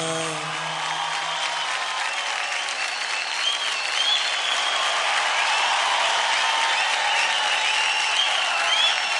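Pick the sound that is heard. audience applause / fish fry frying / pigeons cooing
audience applause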